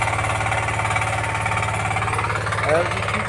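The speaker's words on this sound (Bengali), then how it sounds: "দেখতে পাচ্ছ হুন্ডা মেশিন" A Honda engine machine ploughs a field, making a loud, steady, rapid chugging drone that runs throughout while a person talks over it.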